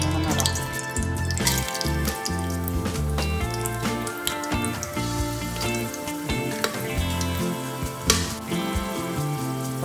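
Whole cinnamon, cloves and cardamom crackle and sizzle in hot oil for mushroom biryani in a pressure cooker, a busy continuous spattering with occasional louder pops.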